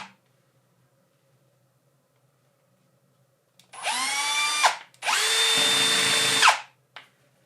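A power tool spins a buffing wheel on a threaded adapter in two close, loud bursts of high-pitched whirring that rise as it spins up and wind down at the end, after near silence.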